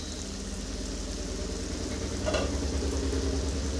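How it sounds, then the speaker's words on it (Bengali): Spices sautéing in oil in a pan over low heat for a Bengali bottle gourd and prawn dish, giving a steady soft sizzle with a low hum underneath and a brief louder scrape near the end. "এটাও 30 সেকেন্ড কষিয়ে নিব লো আঁচে।"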